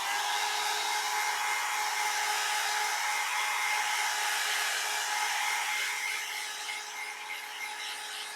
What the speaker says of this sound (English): So this is a hair dryer,